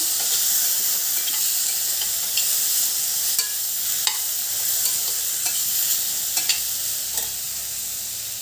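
Steady sizzling of eggplant frying in hot oil on a gas stove, a dense crackling hiss with occasional sharper pops, close and continuous with no voices.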